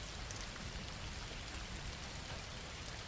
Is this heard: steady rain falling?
yes